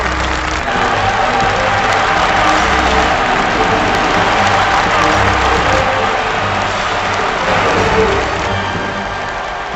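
Thunderous applause rolls from a large crowd, a dense, sustained roar of clapping with faint cheering mixed in, loud and unbroken throughout.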